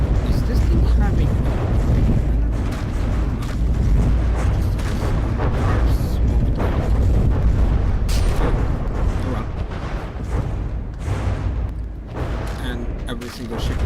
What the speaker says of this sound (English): every single ship is shooting in its direction